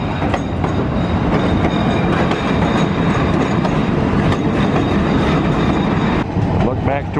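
A train clatters loudly and steadily over the rails near Skagway, Alaska, while taking a sharp left turn, with rhythmic clacking and rumbling wheels close by throughout.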